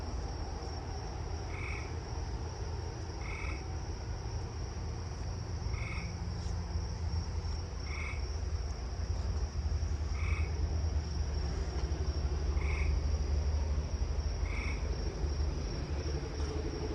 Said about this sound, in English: Let's listen to the eastern gray tree frog one more time.